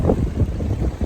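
Strong storm wind gusts across the microphone in the Baseco Compound, a continuous close rumbling buffet with pulsing surges.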